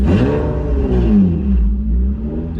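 A Honda 3.2-litre V6 swapped into an NA Miata revs up loud and close, its pitch rising and falling in one short throttle blip with no voices.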